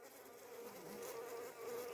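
A steady, close droning buzz of many honeybees humming together inside a hive holding a small swarm, continuous and even throughout.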